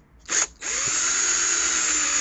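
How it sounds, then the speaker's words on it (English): A power drill bites into a billiard cue ball: a brief whining spin-up, a short pause, then a loud, steady high-pitched grinding whir that holds on alone and close. "I got these two cue balls and I was going to drill into them"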